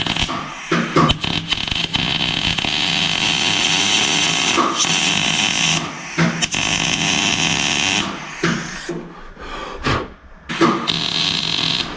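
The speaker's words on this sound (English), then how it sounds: "It's not easy to weld from the small holes." Welding a spare wheel carrier onto a VW T4 van, a loud steady crackling buzz running in long bursts with brief gaps and stops between passes, no talk.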